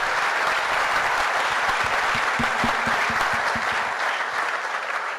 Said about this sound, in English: I'm going to ask you to give them another round of applause